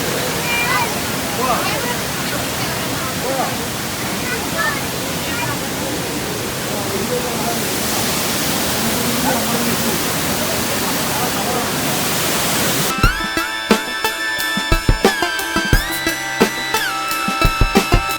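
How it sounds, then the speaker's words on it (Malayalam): Abbey Falls roars in the rain as a loud, steady wash of water heard from above on a building, unbroken for most of the stretch before giving way to music. "വെള്ളത്തിൻ്റെ ഹുങ്കാര ശബ്ദം അത് പ്രകൃതിക്ക് മാത്രം തരാൻ"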